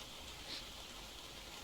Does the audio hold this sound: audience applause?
no